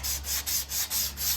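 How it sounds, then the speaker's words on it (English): Body filler on a car panel being block sanded by hand in rapid, even back-and-forth strokes, about six rasping passes in quick rhythm, close and alone. "I could keep sanding just this groove out and get it smooth"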